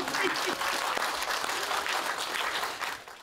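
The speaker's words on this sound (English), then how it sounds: "Come on, guys, give us a round of applause." Dense applause from an accelerator event audience fills the whole moment, a steady wash of many hands clapping that holds evenly and tapers slightly at the end.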